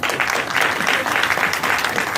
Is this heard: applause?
yes